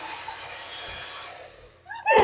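A handheld hair dryer blows with a steady airy whoosh close to the microphone, then its pitch and airflow shift abruptly near the end as someone makes a brief vocal sound.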